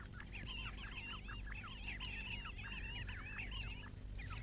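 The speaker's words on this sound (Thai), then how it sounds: "ห่างไปไม่กี่ไมล์ไก่ป่ากลุ่มหนึ่งมาชุมนุมที่บ่อน้ำเพื่อการดื่มน้ำประจำวัน" A flock of wild fowl gathered at a waterhole in the Kalahari desert keeps up dense, overlapping chirps and clucking calls without pause, over a steady low background rumble.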